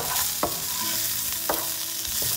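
Chicken fillet fries in a pan with a steady, close sizzle, broken by a few sharp scrapes as it is stirred.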